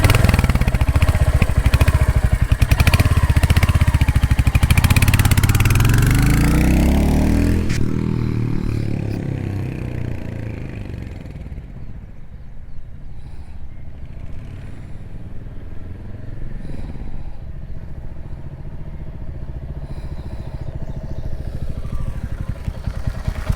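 A Royal Enfield Hunter 350 fitted with a tail bag, its engine running loud and close before it pulls away, then a steadier, quieter riding drone with wind noise.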